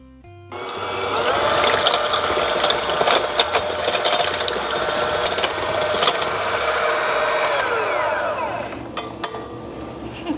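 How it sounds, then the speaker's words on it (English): Electric hand mixer beating eggs in an Ohio stoneware bowl for pumpkin pie filling, a steady whirring mechanical drone that runs loud and continuous for about eight seconds, then stops with a few clinks near the end. "I'm going to use a hand mixer."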